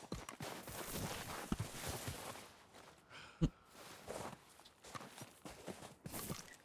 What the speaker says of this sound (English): My good horse Jasper